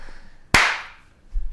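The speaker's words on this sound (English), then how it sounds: "Clap that." A single sharp hand clap, loud and close, ringing out with a short decaying echo in a podcast room.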